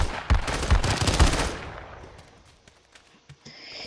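Rapid automatic gunfire from a Roblox game weapon, loud dense bursts for about a second and a half, then fading to a quieter stretch with a few scattered distant pops.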